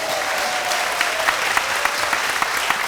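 A church congregation at a Korean revival prayer gathering claps together, a steady wash of many hands with a few sharper individual claps standing out, loud and close, with a faint sustained tone underneath.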